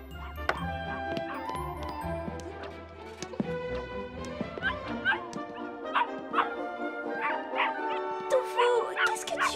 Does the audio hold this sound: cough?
no